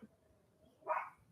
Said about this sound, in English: Is that why you barking at the mail?